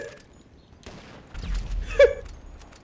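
Gunfire in a Garry's Mod game, a brief burst of shots around mid-clip that sits in quiet game ambience, with a low rumble underneath.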